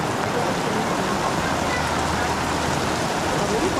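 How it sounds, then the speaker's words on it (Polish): Rain falls during a storm at a seaside campsite near Łeba, a dense continuous hiss that stays loud and even throughout, with no clear voices above it. "A tam nadal pada."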